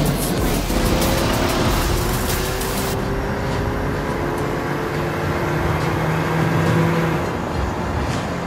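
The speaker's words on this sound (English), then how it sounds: "Hold tight. I'm stepping on the gas." Loud car engine roaring and revving in the Mobile Legends game as the hero Johnson drives, a sustained rising engine drone with tire noise filling the whole stretch, no talk.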